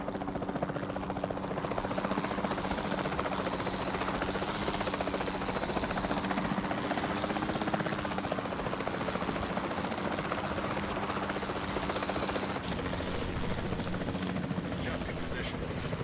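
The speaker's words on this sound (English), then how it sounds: "Then the sensible thing is to take a capture team helicopter." Capture team helicopter in flight, its rotor and engine a steady buzzing drone throughout, close and loud and unbroken, with voices faintly beneath.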